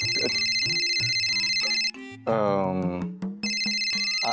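A phone ringtone plays a bright, repeating electronic melody in a domestic scene from a Marathi TV serial. It sounds clearly at the start, breaks off while people talk, then rings again near the end.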